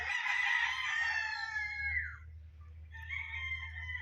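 A Super Brown Red Street Comb gamecock crows one long, strident call that breaks off, then begins a second crow, close and clear over a low background hum.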